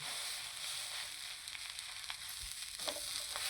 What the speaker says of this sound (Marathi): आता मस्तपैकी पाव गरम करून घ्यायचे